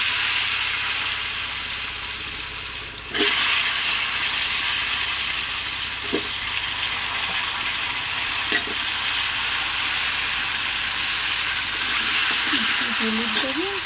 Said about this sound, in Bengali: আলুগুলো আমি একটু হালকা করে ভেজে নেব।